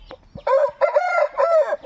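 A rooster crows loudly and close by, a long drawn-out call in three rising and falling bursts, preceded by a few soft clucks.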